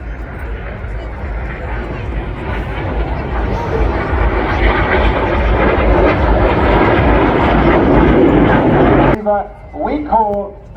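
Red Arrows jets roaring loudly overhead during a flying display at the English Riviera Airshow in Torbay, a sustained broad engine rush that swells and holds before cutting off, followed by brief speech.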